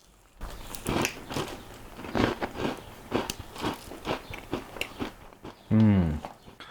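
Close, repeated crisp crunches of someone biting and chewing an original Chips Ahoy! chocolate chip cookie, in an irregular rhythm, ending with a brief voiced sound.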